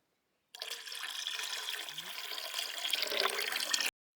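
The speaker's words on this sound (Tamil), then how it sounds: "புளியை வந்து கரைச்சி வச்சுருக்கோம். அந்த தண்ணியை வந்து ஊற்றிக்கலாம்." Dissolved tamarind water poured out for pani puri in a village kitchen, a steady close splashing stream lasting about three seconds, then it stops.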